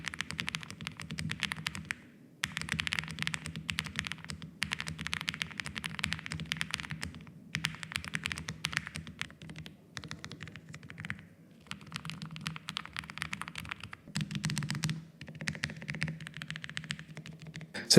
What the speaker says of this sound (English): Onto typing experience, let's have a listen.